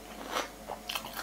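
Close, quiet crunching of dry spicy Mama instant noodles being bitten and chewed, a few crisp crackly bursts in quick succession.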